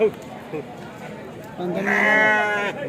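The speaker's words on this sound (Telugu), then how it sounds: "నా ఇవి గొర్రెలు" Several sheep bleat loudly and close by in a drawn-out, wavering chorus at a weekly livestock market in Kadiri, with people talking and general crowd noise underneath.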